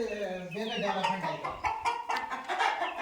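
Native country hens cluck in a lively, overlapping flock chorus that runs without a break. Several birds are close and fairly loud, with busy calls at different pitches.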